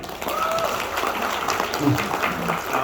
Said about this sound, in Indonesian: Beri aplaus dulu Bapak Ibu.